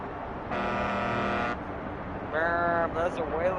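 A truck horn sounds twice in the video game Star Trucker, first as a long steady blast, then a shorter wavering honk, over a low engine drone as a big rig passes on a space highway.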